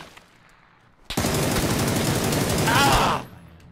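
Gun test-fired in a video game, a sudden sustained burst of rapid automatic fire lasting about two seconds, loud and close, then cutting off abruptly.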